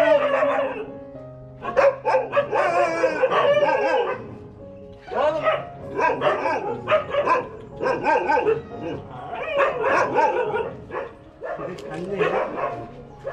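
Rajapalayam puppies bark and yip in repeated bursts close by, with people talking over and between the barks.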